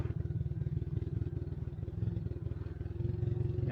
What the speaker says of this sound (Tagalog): Umaatras po tayo sa upuan ng motor.